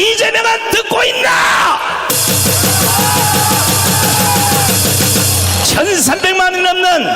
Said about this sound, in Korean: 1300만이 넘는 강화문 애국 국민들의 함성을 이재명은 듣고 있나?